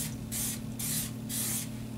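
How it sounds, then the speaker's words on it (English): Three quick bursts of cleaner spray onto a Glock 19 pistol, close and crisp hisses in an even rhythm over a faint background hum. "So what I like to do is just take it and spray a little bit down in there, all over that."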